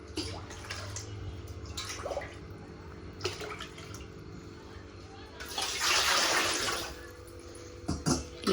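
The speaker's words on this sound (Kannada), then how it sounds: "ಇದ್ರಾಗ ಒಂದು 4 ಪಾತ್ರೆ ನೀರು ಹಾಕೋದು" Water is poured into a cooking pot in one loud gushing splash lasting about a second, set among quiet clinks and faint background noise.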